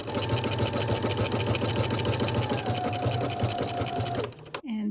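Domestic sewing machine stitching a seam on a maxi dress, a steady rapid mechanical whir with fast regular needle clatter running continuously and loud, then stopping abruptly near the end.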